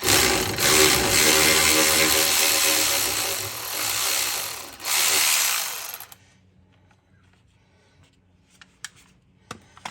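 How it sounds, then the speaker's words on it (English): An electric ratchet spins a bolt off a vehicle's power steering components, whirring loudly and steadily up close for several seconds with a brief dip, then stopping, followed by a few faint clicks and taps. "Electric ratchet to the rescue."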